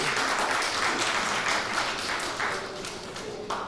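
A crowd at a sister-city anniversary reception in Atlanta breaks into applause during introductions of officials, a steady dense patter of many hands at moderate volume, with a few brief voices mixed in.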